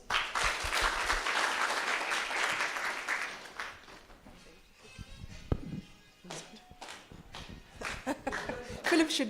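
An audience claps at a project closure event. Dense applause fills the first few seconds, then fades into scattered claps, shuffling and movement, and murmuring voices come up toward the end.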